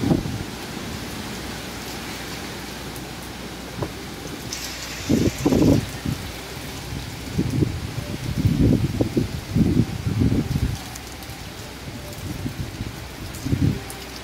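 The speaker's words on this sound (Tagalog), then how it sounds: "Sobrang lakas ng hangin." Steady rain hisses over gusty typhoon wind in Daet, with repeated low rumbling buffets and rattling bursts as strong gusts hit.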